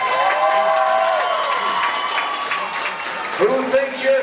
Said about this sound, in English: By your crowd applause, ladies and gentlemen, how many people think Brian Wright in Hook should win that skills